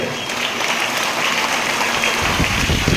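Dense applause from a crowd at a temple fair honouring a guru, steady and fairly loud across the whole stretch, with no clear gaps.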